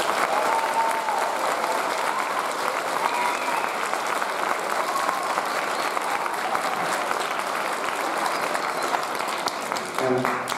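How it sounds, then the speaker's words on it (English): A school audience of children and adults at Park Falls Elementary School applauds a retiring teacher with 35 years of teaching, producing sustained, even clapping that fills the room for about ten seconds and fades slightly at the end. "Let's give her a round of applause."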